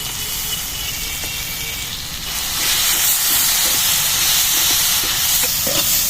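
Ground mustard paste goes into a hot pan while cooking a chatu chatpati, giving a loud, steady steam-like sizzle and hiss that swells and holds after the first couple of seconds, with no talking.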